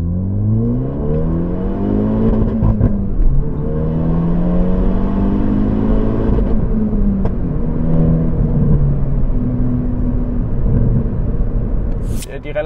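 A Hyundai i20N car engine hums and climbs through the gears on the Autobahn with rising and falling pitch, under steady road and wind noise, with a voice talking over it.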